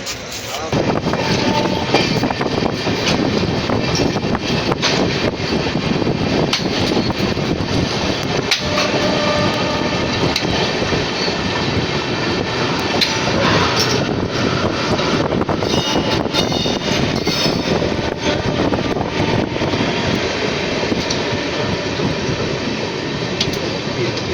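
A Kumbh Express passenger train (12369, Kolkata to Haridwar) runs steadily, giving a continuous loud rumble and rattle of the carriage from inside the coach, with wind noise throughout.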